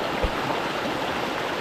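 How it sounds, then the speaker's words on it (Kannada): Water runs steadily through a small stone-dammed stream on a coffee estate, a close, continuous rushing and gurgling wash with no pauses. "ನೀರು ಬರ್ತಾಯಿದೆ,"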